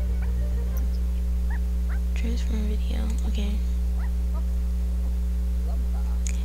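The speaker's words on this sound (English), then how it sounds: "here she goes with this barking" A dog in The Sims 4 yips and whimpers in a few short, high bursts over a steady electronic hum, while a person murmurs quietly nearby.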